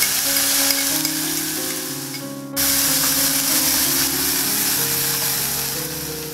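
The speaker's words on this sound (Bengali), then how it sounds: "তখন আমি এখানে আদা, পেঁয়াজ এবং রসুন বাটা যেটা আমি মিক্স করে রেখেছি সেটা পুরোটা এখানে দিয়ে দিচ্ছি।" Ginger, onion and garlic paste dropped into hot spluttering tempering oil: a brief hush, then a sudden loud burst of frying that holds as a steady close hiss beneath a low background hum, no speech.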